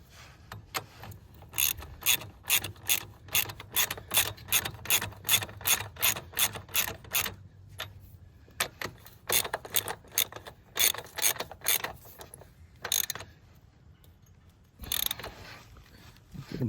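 Hand ratchet clicking steadily as Xitomer lowering links are tightened on a 3rd-gen Kawasaki KLR 650, rapid even bursts of sharp close clicks with brief pauses, no talking.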